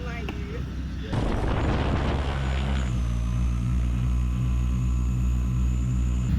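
A small airplane on the first flight of the morning, with a steady loud engine drone and propeller hum close by that fills the cabin throughout, following a burst of rushing noise near the start.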